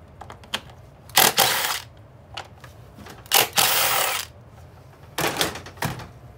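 Ratcheting wrench work on a 10mm bolt on the valve cover of a Honda Accord 2.4 L engine: three bursts of fast metallic clicking, each lasting about a second, with brief taps in between and no speech.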